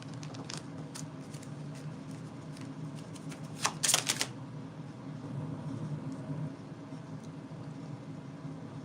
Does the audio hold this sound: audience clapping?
no